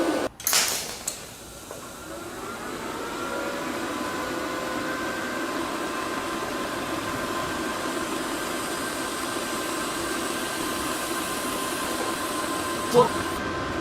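Harbor Freight TIG welder arc after a high-frequency start: a sharp crackling burst at the beginning settles into a steady, even buzzing hum that runs continuously for over ten seconds, with no talking.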